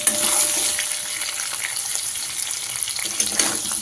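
Potato pieces frying in hot oil in a pan, a steady close sizzle with faint scraping and stirring sounds, no talking.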